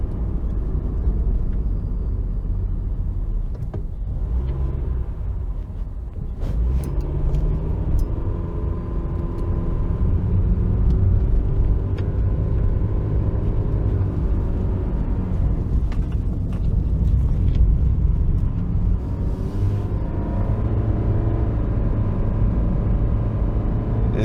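A 2017 Honda Fit with a CVT, driven briskly, gives a steady engine and road drone that holds one even pitch and rises in loudness toward the middle, with no talk.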